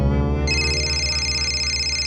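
A telephone rings with a steady, loud electronic tone that shifts to a higher warbling pitch partway through, continuous and close with no voices.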